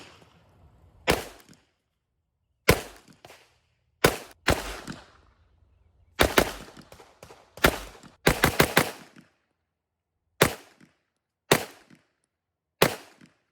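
Sharp, loud pistol shots from a Canik Mete MC9 Prime and a Sig P365 X Macro fired outdoors, some single and some in quick strings of two to four, separated by pauses of a second or more, with no talking.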